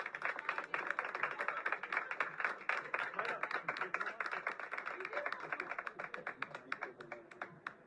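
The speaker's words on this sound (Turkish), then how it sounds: "çok bir alkış alalım" Audience applause for the screenwriter of the Turkish TV series Yargı at the cast and crew's celebration: dense, steady clapping from a crowd that carries on for about eight seconds at moderate loudness, with a murmur of voices underneath.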